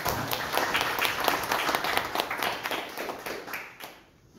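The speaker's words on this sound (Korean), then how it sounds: "박수로 환영해 주시기 바랍니다" An audience applauds to welcome a speaker at a lecture, a dense steady clapping that holds for about four seconds and then fades away.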